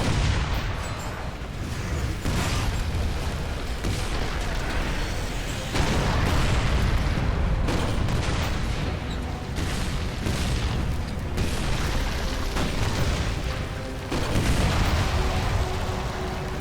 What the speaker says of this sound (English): it is always fun to blow things up while driving in a tank